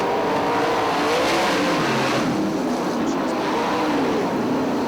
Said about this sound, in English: That's for the runner-up spot as Roger Schammel motors ahead.